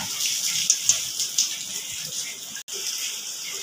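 Muddy water left from washing poppy seeds is poured out, giving a steady close hiss of splashing liquid with a few small drips and no talking.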